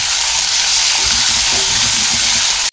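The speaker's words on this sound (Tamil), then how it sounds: "தக்காளியும் சேர்த்து வதக்கிடலாம்." Chopped tomatoes sautéing in a pan with onions and green chillies for rasam, a loud steady sizzle with soft stirring scrapes, close up.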